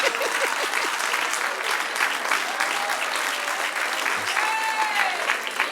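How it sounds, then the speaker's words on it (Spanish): A congregation applauds during a church history class, a dense, even round of clapping that runs throughout at moderate volume with faint crowd murmur. "Denle un aplauso al que reina."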